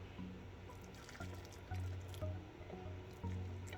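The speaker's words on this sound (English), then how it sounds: "I'm going to go ahead and pour the water over." Water is poured over loose tea leaves in a container, giving a soft, low, gurgling fill with small splashes and bubbling that comes in a few uneven surges, quiet and close, with no voices.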